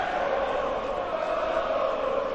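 Large darts crowd at the Winter Gardens in Blackpool during a World Matchplay match, a dense, steady wall of cheering and chatter that holds at full level throughout.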